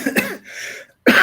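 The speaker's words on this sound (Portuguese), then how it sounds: "desculpe, essa tosse está me matando hoje" A person coughs a couple of times in quick bursts, close and fairly loud, followed by a short silence and another harsh throat sound.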